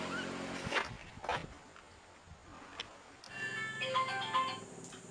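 A mobile phone ringtone plays a short melodic tune, faint and somewhat distant, after a few scattered thumps and shuffling sounds in a quiet room.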